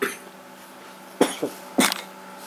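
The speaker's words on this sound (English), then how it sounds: "just coughed me lungs up" A person coughs up close, two sharp hacks and then a third harsh burst, over a quiet indoor room tone.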